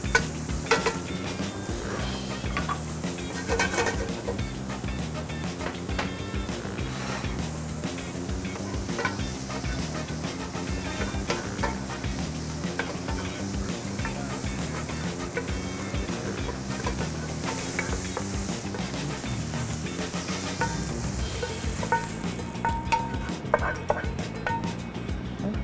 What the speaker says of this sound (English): put 10 ounces of bacon in our pot, on our saute pan. Just let it cook itself down.